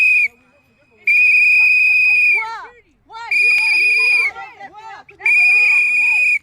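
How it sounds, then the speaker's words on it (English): Several people blow whistles in long, loud, piercing blasts at close range, with short gaps between them and voices in the background. "Look at blowing their whistles too."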